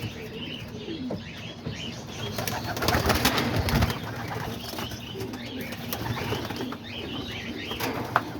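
Homing pigeons in a loft coo and rustle amid a dense, busy wash of noise, with soft calls and occasional wing flutters running continuously at a fairly loud level.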